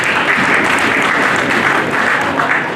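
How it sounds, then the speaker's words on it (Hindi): Dense, loud applause fills a hall at an Atal Samman award ceremony held in India's parliament, a steady wash of many hands clapping without pause. "आप जोरदार तालियां बजाएं।"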